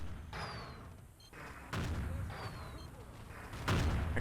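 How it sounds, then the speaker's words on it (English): Artillery shells land in a Battlefield 2 match, with a few dull booms and rumbling impacts spaced a second or two apart over steady battle noise and distant gunfire. "Artillery coming down. He's going to hit the bridge."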